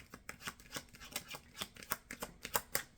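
Tarot cards riffle and snap in a quick, uneven series of crisp bursts, close by, with no talking.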